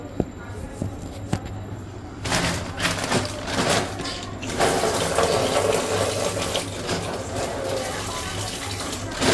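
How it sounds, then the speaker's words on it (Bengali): A bag rinsed under a running household tap, steady splashing water rising louder midway and continuing close by, with a few clunks at the start. "দাঁড়াও ব্যাগটা আগে ধুয়ে নিই"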